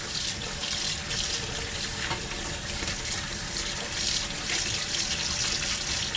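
Tap water runs in a steady, full gush into a sink while boiled pokeweed greens are rinsed, a continuous close splashing rush with no speech over it.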